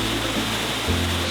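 Huge waterfall plunging into a rock pool ringed by sheer rock faces, a loud, steady broadband roar of falling water with no talk.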